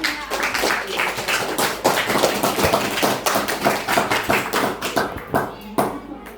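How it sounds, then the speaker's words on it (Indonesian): A classroom group claps at a school guidance session, sharp individual hand claps forming an uneven, fairly close rhythmic patter that continues throughout. "beri tepuk tangan untuk satu-satunya"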